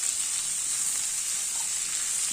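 Chopped tomatoes sizzle steadily in a hot pan as they are stirred while cooking pasta with kofta and vegetables, a constant bright frying hiss close by with no voices.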